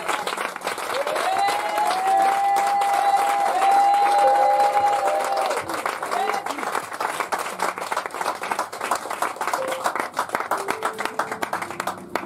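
A church congregation applauds for Jesus in a sustained, loud wash of clapping, with a high sustained cry rising above it early on, and the applause gradually thins toward the end.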